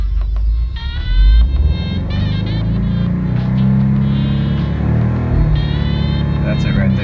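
A 2017 Subaru WRX engine revved to about 5,000 RPM and held without launch control, a steady loud drone lasting several seconds with a voice talking over it.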